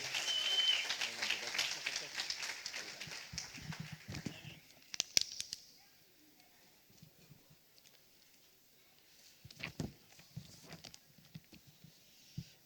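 Warm applause from a church congregation welcoming a preacher to the pulpit, a dense patter for the first few seconds that fades out, followed by someone speaking.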